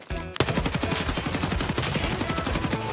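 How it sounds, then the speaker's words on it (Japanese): Rapid automatic gunfire in Escape from Tarkov, a loud continuous rattle of shots in quick bursts with no pauses. "多分だが他の敵を撃ってる音だろうな"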